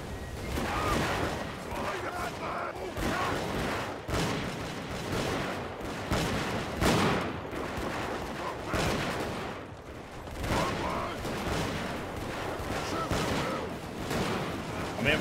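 Volleys of infantry musket fire crack and rumble through a large 1700s-era battle in Mount & Blade II: Bannerlord, repeated bursts of overlapping shots with distant booms, while someone talks over the din.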